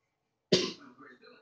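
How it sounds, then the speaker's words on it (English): A single sharp cough bursts out close and loud, followed by a brief rough tail of throat noise, with silence before it. "I only cough one time at a time."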